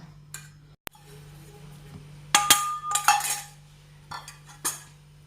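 Chocolate cake batter for a choco-raffaello cake folded bit by bit in a bowl, with scattered scrapes and clinks of a utensil against the bowl, close and intermittent, over a steady low hum.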